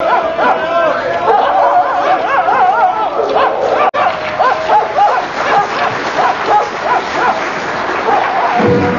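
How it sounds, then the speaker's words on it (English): Several dogs bark and yip excitedly near a river, close and continuous, mixed with voices and lively chatter throughout. "why are the dogs jumping straight into the river and swimming across?"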